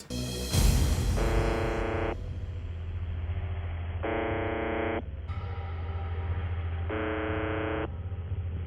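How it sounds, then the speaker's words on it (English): Monotonous buzzing drone from a shortwave radio, sounding in repeated bursts about every three seconds over a hissing, crackling static background. "has been transmitting a monotonous droning sound like this one"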